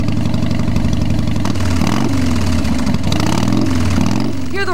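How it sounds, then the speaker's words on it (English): A motorcycle engine roars in a continuous, loud, dense drone that holds steady throughout, with no pauses. "The roar of the engine, see the glare of polished chrome."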